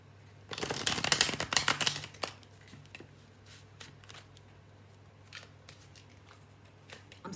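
Connolly Tarot card deck being shuffled up close, a dense riffling flutter lasting about two seconds, then scattered soft taps and slides of cards being handled.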